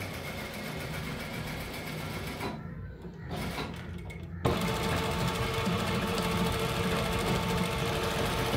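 Sewing machine stitching the joined ends of elastic together, a steady close mechanical whir running throughout with a brief quieter dip before it resumes louder.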